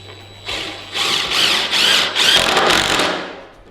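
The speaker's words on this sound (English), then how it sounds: "These are 3-inch screws, and then we'll go ahead and use our impact driver." An impact driver sinks 3-inch screws into wood while building a DIY home power rack, giving four or five loud, close, rattling bursts in a row with short gaps between them.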